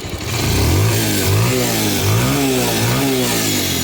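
A serviced Bajaj Pulsar motorcycle engine running close by, revving up and easing back in several rising and falling swells over a steady loud idle, with no voices.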